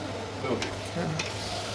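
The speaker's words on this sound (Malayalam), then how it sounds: "എണ്ണയിൽ ഉള്ളി മൂപ്പിച്ചിട്ട്" Onions sautéing in oil in a curry pan, a soft close sizzle with a couple of stirring scrapes and clinks over the top.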